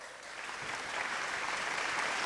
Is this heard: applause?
yes